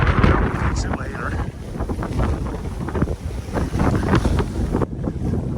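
Wind buffets the microphone on a farm with a constant low, rumbling roar that barely lets up the whole time.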